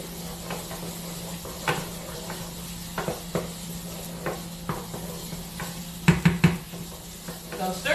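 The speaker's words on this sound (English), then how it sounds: "So I'm stirring this up, and I don't know if I want to actually add the second one to it." Tomato sauce for drunk shrimp is stirred in a pan, giving soft repeated scrapes and taps of a utensil over a low sizzle, with a few sharper clinks toward the end.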